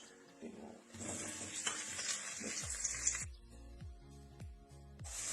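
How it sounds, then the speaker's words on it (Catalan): Calçots dropped into hot olive oil in a pan, setting off a loud, bright sizzle that swells and then cuts off, with a few soft knocks and stirring sounds before and after. "Posarem una miqueta d'oli aquí, posarem els calçots."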